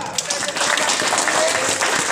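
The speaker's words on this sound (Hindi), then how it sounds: "टिके उच्च करताली देवा।" Audience at an annual school function claps continuously, a dense, steady wash of applause throughout, fairly loud and close, with voices mixed in underneath.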